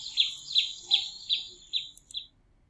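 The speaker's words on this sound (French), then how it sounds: "Des oiseaux." A series of six bright, high chirps from small birds, evenly spaced and fairly close, followed by a couple of quicker notes and then quiet, with no voices.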